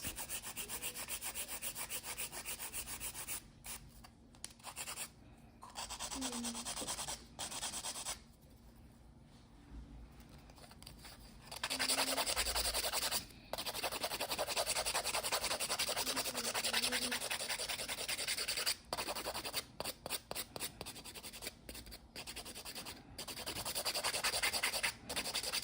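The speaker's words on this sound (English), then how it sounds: "this is an 80 grit hand file" An 80-grit hand file rasps against the sides of nails, steady rubbing strokes in long continuous bursts with brief pauses, close and fairly quiet, no talking.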